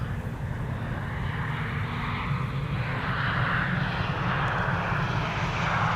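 A Suparna Airlines Boeing 747 rolling on the center runway after landing, a steady loud jet engine roar heard from a distance with no break.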